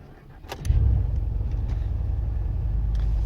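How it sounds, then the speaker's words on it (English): A 2004–2008 Pontiac Grand Prix engine cranks briefly and catches, then settles into a steady close idle rumble that fills the rest of the clip. "I'm going to go ahead and start my car."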